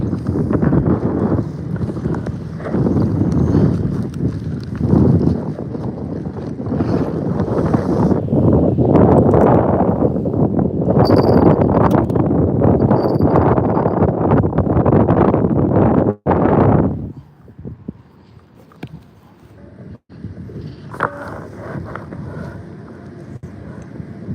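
Strong wind buffets the microphone on a fishing boat, a loud continuous roar with gusts that drops suddenly near the end to a quieter background with faint knocks.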